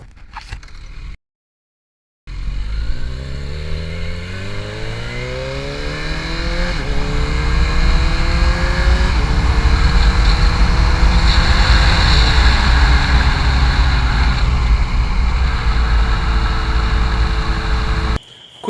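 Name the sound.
Kawasaki Z900 motorcycle riding with quick shifter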